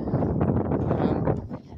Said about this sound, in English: given that it's so windy, and might I add, quite frigid with the wind